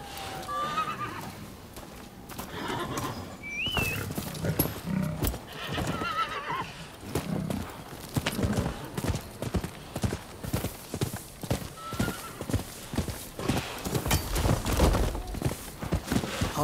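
Horses in the video game Rise of the Ronin: steady clip-clopping hooves throughout, with whinnies and neighs rising now and then over an ambient backdrop.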